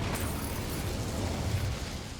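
The Incendio fire spell in Hogwarts Legacy bursts into a roaring, crackling whoosh of flame, a sustained rumbling blaze with a sharp onset, loud and close throughout.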